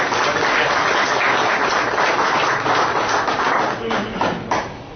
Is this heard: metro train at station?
no